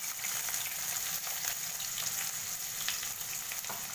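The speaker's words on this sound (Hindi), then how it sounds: "प्याज को थोड़ा सा होने देंगे।" Chopped onions frying in a pan for a potato, pea and carrot jackfruit curry, giving a steady, close, loud sizzle with faint crackles throughout and no talking.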